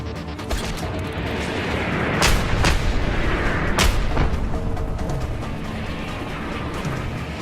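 Government soldiers fire straight at the player in Just Cause 2 near an atomic submarine, a dense, loud barrage of gunshots and heavy booms over rumbling game noise, with two sharp blasts standing out, no talk.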